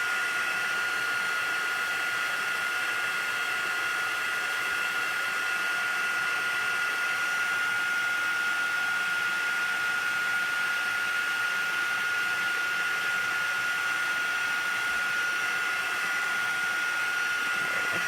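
A heat tool warms the back of a stamped paper craft project, blowing with a steady, loud, close whirring hum and a fixed high whine that runs unbroken throughout, with no talk.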